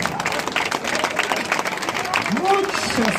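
Audience applause at a summer festival in Issoire after a dance group's performance, a dense crowd clapping throughout while a voice talks over it.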